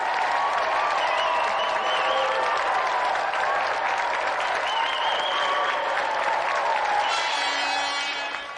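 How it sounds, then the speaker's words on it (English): A television game show studio audience claps in a dense, sustained wash of applause with some whistling and cheering mixed in. It stays loud and steady before tapering slightly at the end. "let's give another round of applause for Thomas and Christopher Celestine"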